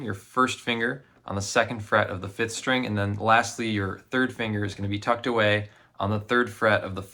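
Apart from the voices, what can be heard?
No everyday noises stand out.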